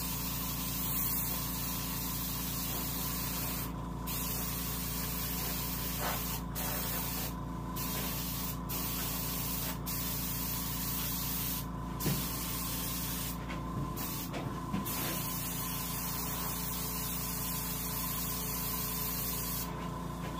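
Aerosol sealer base coat hissing steadily onto a largemouth bass being prepared for taxidermy painting, a continuous close spray broken by several short pauses over about twenty seconds.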